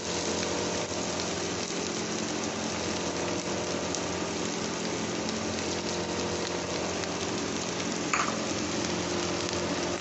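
Chopped onions and green chilies frying in a pan give a steady, even sizzle that holds unbroken throughout, close and moderately loud with no talking.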